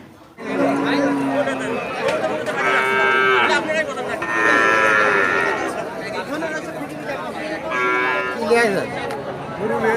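Cattle, including heifer calves, moo repeatedly at a livestock market, long drawn-out calls from several animals, over a busy crowd chatter with people talking nearby.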